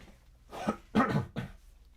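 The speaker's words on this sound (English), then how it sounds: "Hang on, I gotta clear my throat." Someone clears their throat in three quick, rough bursts, the middle one strongest, fairly quiet and close with brief pauses between.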